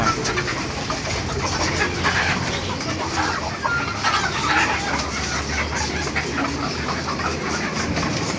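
Layer hens kept for eggs in Chattogram clucking and murmuring together, a dense, continuous flock chatter close by, with faint human voices in the background.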